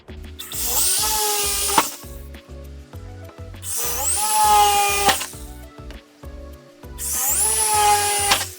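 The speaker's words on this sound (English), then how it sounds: "so let's start drilling right now." A power drill bores into drywall to mount a TV without studs, whining up in three long bursts with pauses between, loud and close, with no voices over it.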